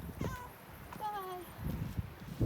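A cat meows twice outdoors on a walk, short rising-falling cries at moderate distance, mixed with a person's quiet voice and light background noise.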